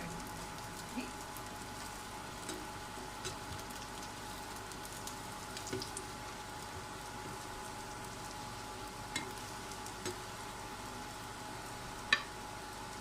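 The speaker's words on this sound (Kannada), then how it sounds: "ಗೋಲ್ಡನ್ ಕಲರ್ ಫ್ರೈ ಮಾಡ್ಕೋಬೇಕು ಎರಡು ಸೈಡ್" Potato and rice flour snacks shallow-fry in a little oil until golden on both sides, giving a faint, steady sizzle with a few scattered pops and crackles.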